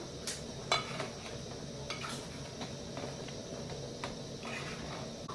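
Fish curry being stirred in a pan, with soft scraping and clinking of a spoon against the metal over a low steady sizzle, a few sharper taps standing out; no talking.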